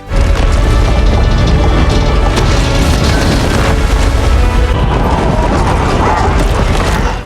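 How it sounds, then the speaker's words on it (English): A massive, sustained explosive roar with crashing and rumbling debris, loud and continuous throughout, with no voices. "Mount Doom erupted in a massive explosion, and shockwaves spread throughout Mordor"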